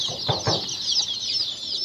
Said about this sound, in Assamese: আপোনালোকে চাব পাৰিছে বৰ্ডিং লোকেল মুৰ্গী পোৱালি।